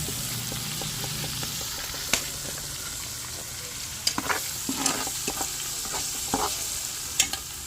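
Garlic sautés in oil in a pan, giving a continuous moderate sizzle with occasional clinks and scrapes of a spatula stirring, with no talking.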